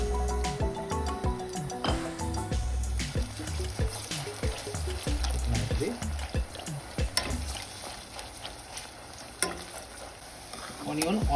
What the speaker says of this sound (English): I took 2 large onions and I want to fry and make it bresta.